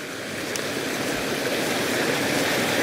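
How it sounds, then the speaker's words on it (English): Stream water rushes along a combe at Holford Glen, a steady, close, broadband wash that holds constant and swells slightly toward the end, with no voices. "That is rushing along there, and then you get this stagnant bit."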